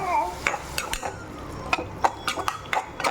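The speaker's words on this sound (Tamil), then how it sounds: "இப்போது இந்த ஏற்கனவே கோவக்காயில் உப்பு போட்டுக்குவோம், பார்த்து போட்டுக்குங்க. இது தேவையான உப்பு. போட்டு வதக்கிக்கலாம் நல்லா." Ivy gourd with salt stirred and sautéed in a pan, with repeated metal spoon scrapes and clinks against the pan over a light sizzle, close and irregular, no talking.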